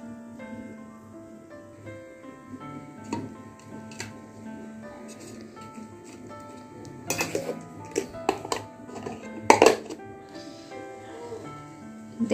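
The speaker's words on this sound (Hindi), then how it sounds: "इस सबको हम चॉपर में डाल के और बारीक काट लेंगे" Vegetables chopped in a hand-pulled manual chopper for besan chilla, with a few clicking, rattling plastic bursts and clatter late on over a quiet background hum.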